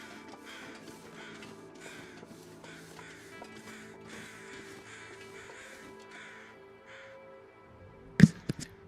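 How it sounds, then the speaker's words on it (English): Crows caw overhead in the video game Signal Void, a series of faint repeated calls over a low droning background, ending with a couple of sharp clicks. "those sounded kind of like some overhead crows"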